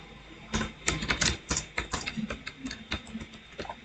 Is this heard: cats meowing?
no